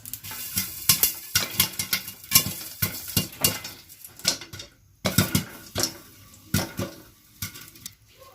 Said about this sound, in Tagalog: Tutukan natin kung paano siya mag-pop.